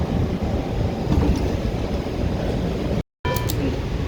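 A WMATA Metro Red Line train runs between Maryland and DC, giving a steady low rumble and hiss inside the car, broken by a brief dropout near the end before a faint chime-like tone.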